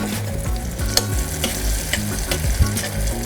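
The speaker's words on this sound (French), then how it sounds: "il ne nous manque plus que cuire nos girolles avec un petit peu de beurre et un filet d'huile" Girolle mushrooms cook in a pan of butter with a drizzle of oil, a loud, close sizzle broken by bursts of crackling and spoon scrapes as they are basted, with no voices.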